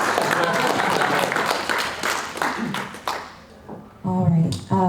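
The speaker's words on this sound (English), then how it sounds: "So give everybody a round of applause" Crowd clapping at a rally, a scattered patter of hands that builds briefly then thins out and fades, followed by a voice speaking over the tail end.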